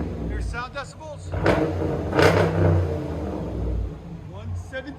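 Low idle of a Dodge Durango RT HEMI V8 swells into a pair of strong, throaty revs in the middle, with people talking before and after.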